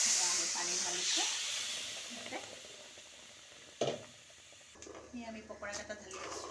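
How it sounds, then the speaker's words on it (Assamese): Banana flower pakoras are poured into a simmering tomato and potato gravy, giving a steady hiss and bubbling with a few soft splashes and clatters, under a faint voice. "আমি পকোৰাকেইটা ঢালি আছোঁ।"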